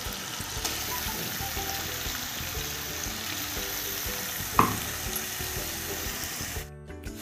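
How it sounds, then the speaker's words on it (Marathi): Masala of roasted onion, roasted coconut, coriander and garlic sautéing in oil, giving a steady close sizzle with soft stirring scrapes and one sharp utensil clack near the end. "हे बघा हा मसाला आपण असा छान असा परतून घेतोय"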